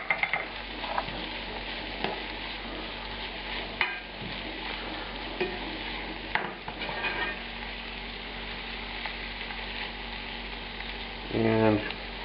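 Red onions with cola sizzle and fry steadily in a pan as they reduce toward a glaze for a barbecue side dish, with occasional stirring scrapes and a brief clatter near the end.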